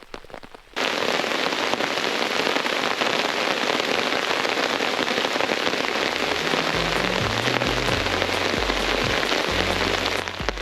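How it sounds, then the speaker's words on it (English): Steady, dense rain pours down on a surface at a campsite, starting abruptly and continuing at an even, loud level, with a faint low hum underneath. "Now we're back at the rain again."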